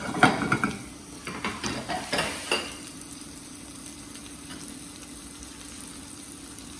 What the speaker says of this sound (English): In this pan, we're going to start working our garnish. So we're going to add some mushrooms.